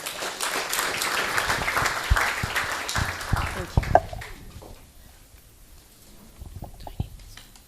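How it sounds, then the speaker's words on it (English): An audience at an energy forum in Eswatini gives a round of applause to welcome a speaker, dense clapping for about four seconds that then thins into scattered claps and room noise. "Please welcome her with a good round of applause."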